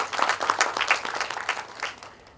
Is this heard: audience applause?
yes